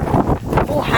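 Strong wind buffets the microphone at a house, a loud, rough, gusting rumble that runs throughout the second-long moment beneath someone talking.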